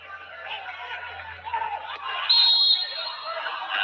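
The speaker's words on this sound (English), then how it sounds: "Now there's a whistle gone." A referee's whistle blows once, briefly and shrill, over loud crowd noise and commentary during a Chelsea vs Burnley Premier League football match.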